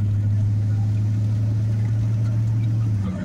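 A 1986 Dodge engine runs steadily at close range, a loud, constant low drone with a strong hum and rough rumble that holds without a break, no clear pauses for gear changes.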